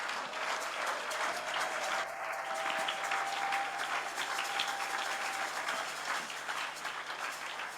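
A church congregation applauds to acclaim the Lord, with sustained dense clapping, faint voices mixed in, and a steady hum underneath, loud and filling the room.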